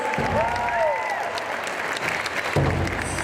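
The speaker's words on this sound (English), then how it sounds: "Let's put another round of applause together." An audience at a pow wow in a mall applauds, a dense wash of clapping that runs continuously throughout, with a faint tonal whistle or squeal briefly audible over it.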